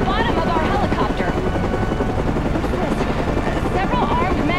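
Helicopter in the Batman Arkham Origins video game, a loud steady rotor roar filling the whole stretch with faint voices underneath.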